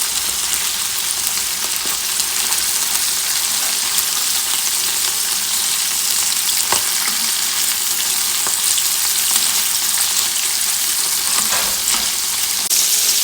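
Chicken livers fry in a pan, spitting hard in a loud, dense, continuous sizzle with scattered crackles and pops, and no voices.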